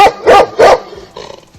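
A dog barks three times, loud and close, in a quick even rhythm, then a few softer trailing yips, with nothing else heard.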